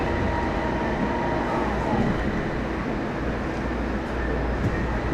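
A Bangkok Gold Line electric train runs along its track, a steady heavy rumble and rolling drone with a faint high whine, recorded from inside the carriage, with someone speaking over it.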